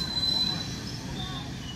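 An up local train heading toward Bandel Junction runs at high speed, producing a continuous broad rumble with a thin metallic squeal near the start, heard at moderate distance.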